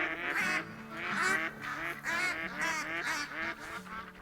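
A flock of ducks calling in theHunter Call of the Wild duck hunt: repeated nasal honking quacks in overlapping bursts, fairly close and steady throughout.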